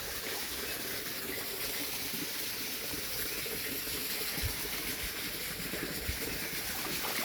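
Rainwater rushes and gushes steadily through a flooded pond, a continuous broadband flow close by with occasional low thumps, no voices over it.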